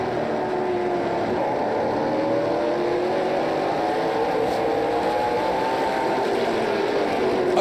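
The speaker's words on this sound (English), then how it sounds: "Again, you could really hear the throttle work of Donald Teach." A NASCAR Pinty's Series race car at Flamboro in a 2020 race, its engine rising and falling in pitch as the driver works the throttle, loud and continuous with rumbling road noise.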